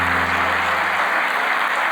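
Audience applause, a dense and even roar of many hands clapping at a steady level from start to finish, with a faint low hum underneath.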